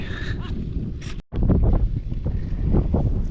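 Strong wind gusts roar and buffet across an open river sandbar in bright sun, steady low rumbling with a brief dropout partway through, no clear voices.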